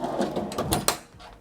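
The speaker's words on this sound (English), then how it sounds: "across from that is a small cabinet drawer" A small cabinet drawer in a San Diego hotel suite slides open or shut, a short run of soft scraping and light clunks ending in a firmer knock, close by.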